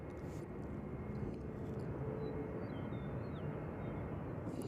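Airplane landing at Nashville International Airport on a windy day, a steady broadband engine roar heard from a distance with gusty background noise, continuous and fairly faint, no clear talk.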